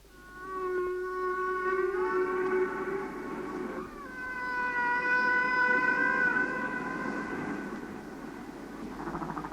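Long, drawn-out tonal calls rise and fall in pitch, overlapping one another with a moaning, wailing quality, continuous and fairly loud throughout.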